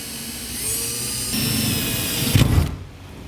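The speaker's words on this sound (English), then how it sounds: "So now we'll just drill out the marks that we made here." A power drill bores holes into the bed of a 2017 Ram 2500 pickup during an above-bed base rail kit install, its steady whine rising and then bearing down harder for a moment before easing off.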